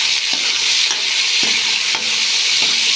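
Onion, ginger and tomato sauté together in a hot pan, a constant bright sizzle with a few soft scrapes of stirring at regular intervals, close and alone without voices.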